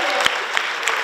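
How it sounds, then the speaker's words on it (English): Applause from an audience at a school jazz band festival, a dense, fairly loud patter of many hands with a few sharper claps standing out. "So let's give them a round of applause for helping out"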